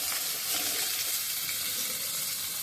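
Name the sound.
potatoes frying in a pan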